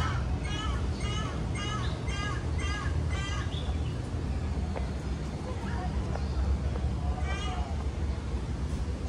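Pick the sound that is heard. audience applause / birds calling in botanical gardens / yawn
birds calling in botanical gardens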